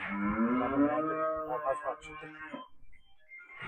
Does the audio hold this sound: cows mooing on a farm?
yes